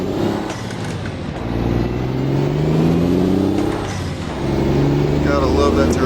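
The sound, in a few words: truck turbo sound from a video game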